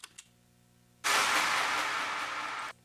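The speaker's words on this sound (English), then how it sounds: "there's this like crash sound, impact crash effect that I really like" Impact crash effect in a house music track, a sudden burst of bright wide noise that hits hard and holds steady for under two seconds before cutting off, preceded by two faint ticks.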